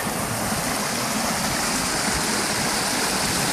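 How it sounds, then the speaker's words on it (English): Stream water pours out of a small pond in a steady, loud, close rushing roar with no breaks or voices. "Flow out of the pond that I was just on."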